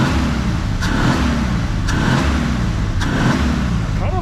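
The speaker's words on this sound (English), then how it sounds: "It's a peppy little V6 for a single barrel." A neglected 1954 Plymouth Savoy's six-cylinder engine on a single-barrel carburetor idles close by, a loud steady rumble broken by small periodic ticks and surges roughly once a second, with no talking.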